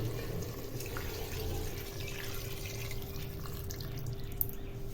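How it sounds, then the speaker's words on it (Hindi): Hot water pours steadily into a cooking pot of chicken curry in a continuous splashing stream, close by, with a faint low hum underneath and no talking. "अब हम इसके अंदर छोड़ देंगे पानी को"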